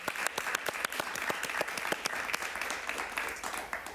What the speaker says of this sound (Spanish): un aplauso para mi mamá